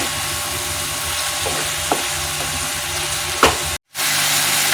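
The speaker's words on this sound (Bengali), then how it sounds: "তাহলে পেঁয়াজটা তাড়াতাড়ি ভাজা হয়ে যাবে" Sliced onions with salt frying in a pan for mutton curry make a steady, fairly loud sizzle with a few light utensil knocks, cut by a brief silence near the end.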